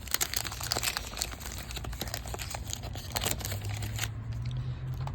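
A 1987 Donruss baseball card wax pack being opened by hand, with close crinkling and tearing of the wrapper in short bursts, followed by a softer rustle at the end.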